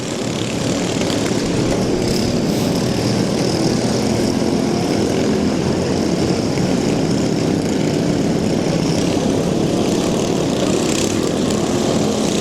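Racing lawn mower engines at a bash for cash event drone continuously at high revs, a loud, dense buzzing roar that holds steady throughout with no pauses.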